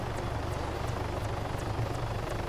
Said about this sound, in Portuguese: Vai, helicóptero, desce no baixo.